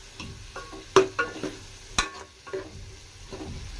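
Chopped tomatoes cooking down in a pan for a village-style prawn and brinjal curry, giving a low sizzle broken by a few sharp spatula knocks and scrapes over a few seconds, no voices.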